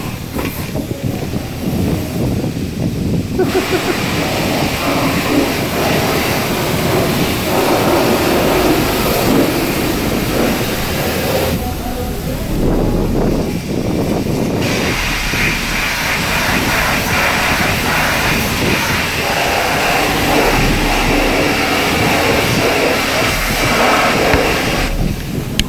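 Pressure-washer water spray rinsing the undercarriage of a RAM truck, a loud steady hiss and roar that continues for nearly the whole stretch, with brief dips where the spray pauses or shifts.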